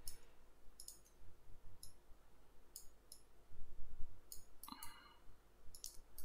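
Sharp computer mouse clicks while selecting spline points in the Unreal Engine editor, coming singly and in quick pairs at irregular intervals over a low background hum, close and fairly quiet, with no talking.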